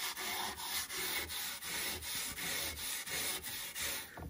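Steel wool scrubbing wood soaked with cabinetmaker's stripper, a steady rhythmic back-and-forth rubbing with quick regular strokes, close and continuous, no voices.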